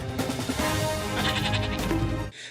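A cartoon sheep lets out a long, wavering bleat as a sound effect in an animated short, loud and close, with a quavering pitch that breaks off sharply near the end.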